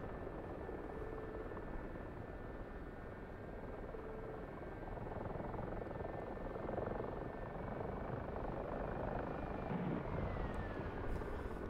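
A helicopter in the DCS flight simulator game flies with a steady, fairly quiet rotor drone and a thin engine whine, holding constant throughout.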